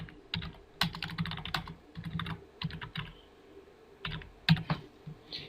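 Text being typed on a computer keyboard, a close, quiet run of quick key clicks in short irregular bursts with small pauses between them.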